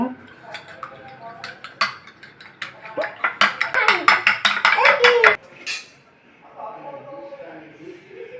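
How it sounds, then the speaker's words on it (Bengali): An egg with salt being beaten in a bowl, a quick run of sharp clinking utensil taps that speeds into a dense rhythmic burst then stops, heard close with some talk around it. "লবণ দিয়ে ডিমটা ফেটিয়ে নিব"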